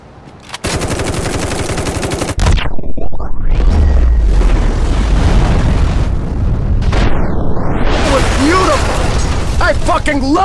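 Mobile game combat noise from City of Outlaws: rapid machine-gun fire followed by heavy booming blasts and mechanical clatter, loud and continuous, with voices mixed in.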